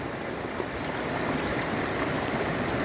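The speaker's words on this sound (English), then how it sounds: "You want to see Dad rinse in the river or in the creek?" Creek water rushes and gurgles in a steady broadband wash, close and continuous throughout, with no voices.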